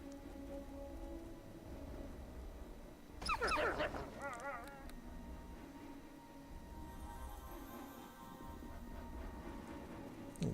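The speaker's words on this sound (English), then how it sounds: "Oh, there's the other dog." A dog in the Neverwinter Nights video game barks and whines briefly, a short burst of yelps near the middle over a steady background hiss, moderately loud and close.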